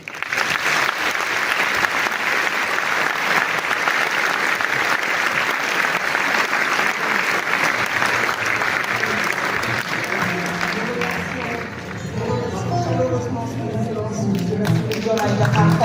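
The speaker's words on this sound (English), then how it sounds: "Encore sur vos applaudissements." Sustained, dense applause from a large audience at the opening of the 19th Africa Food Systems Forum in Diamniadio, steady and loud for most of the stretch before a voice begins speaking over it near the end.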